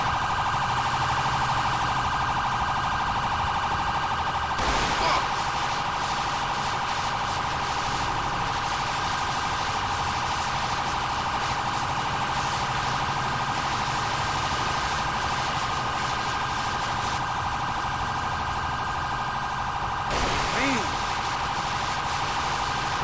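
A fire engine siren in GTA 5, an ELS-modded Paleto Bay Fire Rescue engine, is stuck on. It holds a steady, loud electronic tone with two brief breaks and no speech over it.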